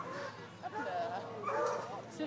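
Hunting dogs at a hunting fair at the Château de Verteuil give short yips and whimpering barks close by, with people talking over and around them throughout.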